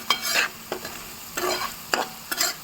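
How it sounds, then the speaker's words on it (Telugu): Bitter gourd fry with curry leaves gets stirred in a pan, several quick scraping strokes of a spatula over a soft background sizzle, close and fairly quiet. "కరేపాకు కూడా వేసాం కదా ఫ్రెండ్స్ ఒకసారి తిప్పుకుందాం"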